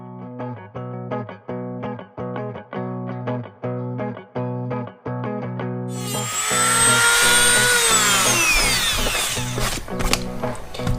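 A power tool cuts off a plastic motorcycle café racer seat part, first buzzing in short repeated bursts, then grinding continuously and loudly up close.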